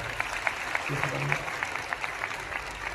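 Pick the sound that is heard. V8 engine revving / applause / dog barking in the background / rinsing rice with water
applause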